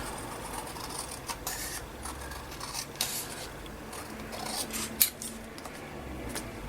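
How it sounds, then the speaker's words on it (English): Scissors snip around a paper envelope pocket for a junk journal, a series of short, crisp cuts spaced irregularly, close and moderately quiet, with one sharper snip near the end and no talking. "I'll just use my scissors and snip around here."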